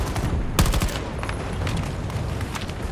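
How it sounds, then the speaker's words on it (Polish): Bursts of rapid gunfire with sharp cracks in the video game Battlefield 2042, a dense fusillade with a louder volley early on, no talking. "Dziesiąta minuta słychać strzały"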